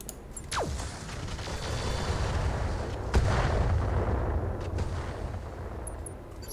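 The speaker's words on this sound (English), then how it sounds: "And now we shoot the Orion." Weapons fire on an Orion mech in a modded BattleTech game: a sharp whooshing launch, then rumbling booms and a crackling impact, over a continuous low rumble of battle noise.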